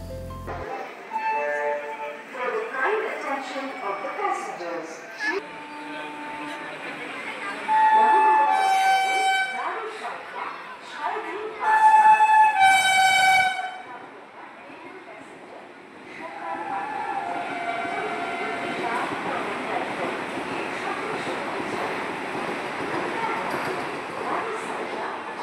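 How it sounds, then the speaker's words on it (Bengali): A passenger train pulls into a railway station platform with a low rolling rumble and two loud horn blasts partway through, while voices murmur on the busy platform. "আমাদের ট্রেন ঢুকছে"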